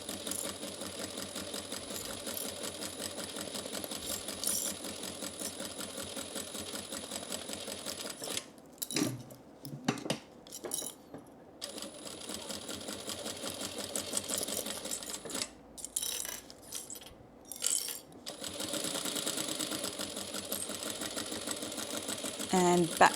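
A sewing machine runs stitching fabric for gift bags at a 3.5 stitch length with back stitching, its steady mechanical whir breaking into short pauses and bursts, alongside a speaking voice.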